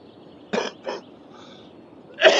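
A short series of close coughs: two quick hacks, a faint rasp, then a louder cough at the end, with quiet gaps in between.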